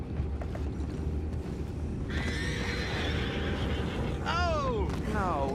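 Horses neighing in the Red Dead Redemption 2 video game, two loud close whinnies with falling pitch near the end, over a steady low rumble of hooves and movement.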